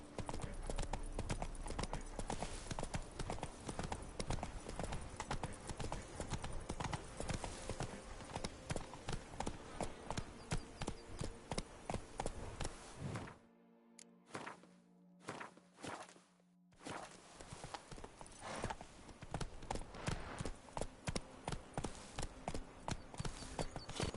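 Roach the horse's hooves clip-clop in a steady walking rhythm in the video game Witcher 3, close and distinct, briefly dropping out for a moment midway before the hoofbeats resume.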